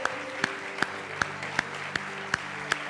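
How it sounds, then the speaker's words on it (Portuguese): A church congregation claps in praise, with evenly spaced, sharp beats falling roughly every third of a second over a sustained musical backing. "dê um forte aplauso ao Senhor, aleluia."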